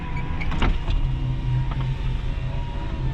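A 2001 Toyota Tundra's driver's power window running on auto down, a steady close electric motor whir with a faint click at the start, alone with no talk.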